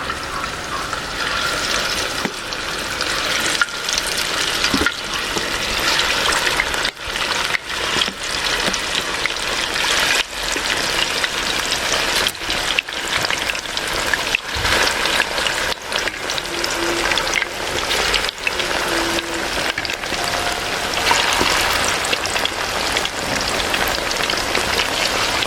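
Chicken pieces sizzling in a hot pan while beer chicken cooks, a steady loud crackling fry with small pops, continuous throughout with no talking.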